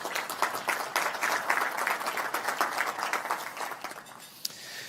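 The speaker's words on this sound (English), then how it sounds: "if we could take a moment and give them a round of applause" Audience applause at a digital health technology forum, a steady wash of many hands clapping at moderate, fairly distant level, thinning slightly near the end with one sharp clap standing out.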